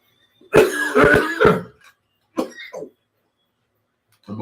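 A person with a cough drop in the mouth coughs hard at close range, a burst of three or four harsh hacks followed by a couple of shorter, weaker coughs after brief pauses.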